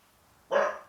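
One loud, close bark from a dog indoors, sudden and alone against a quiet background, fading out over a fraction of a second.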